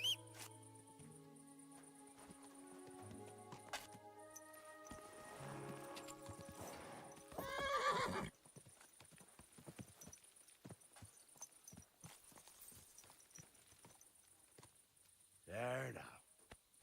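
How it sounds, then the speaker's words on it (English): A horse in the medieval video game Kingdom Come Deliverance 2 clops its hooves and gives two short whinnies, all quiet and distant under faint game ambience. "Horsey."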